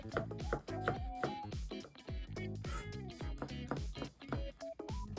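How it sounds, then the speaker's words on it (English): Cucumber chopped very finely with a knife on a cutting board for hiyashi chuka, rapid sharp taps in a quick, slightly uneven rhythm, close up with faint tonal sounds in the background. "Then I chop it very finely."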